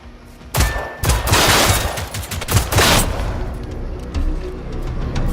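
A burst of gunfire in the video game Generation Zero rings out in rapid repeated shots, loud and close, with booming echoes trailing off between volleys.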